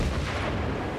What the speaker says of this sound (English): And the sound of those guns firing.